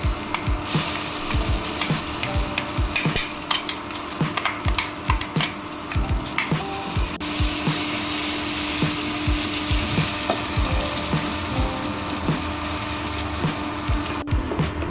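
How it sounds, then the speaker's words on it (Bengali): Green pea paste with nigella seeds fries in a kadai over a low to medium flame. A steady sizzle runs underneath, while a spatula scrapes the bottom in frequent, rhythmic strokes throughout. "যতক্ষণ এই পেস্টটা একদম শুকিয়ে যাচ্ছে কড়াইতে একটু নাড়তে হবে লো টু মিডিয়াম ফ্লেমে যাতে তলায় লেগে না যায়"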